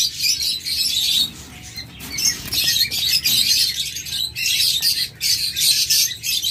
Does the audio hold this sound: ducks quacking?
no